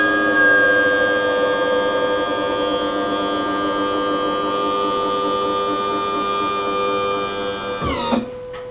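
A T&H Marine Atlas jack plate's electric motor runs on a boat with a steady whining hum, loud and close, then shifts pitch and cuts off near the end.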